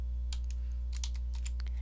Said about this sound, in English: I'm going to type in 97 on my number pad